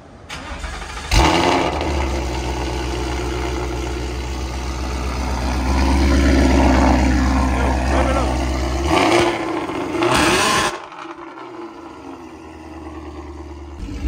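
A Ford Mustang engine with catless long-tube headers and a Corsa Xtreme exhaust cranks and fires up, then idles with a loud, deep, rumbling exhaust drone that swells with revs before cutting back down.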